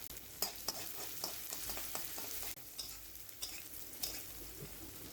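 Onions and cumin seeds fry in white oil in a pan for a Bengali beef bhuna, a steady close sizzle broken by repeated sharp scraping strokes of stirring.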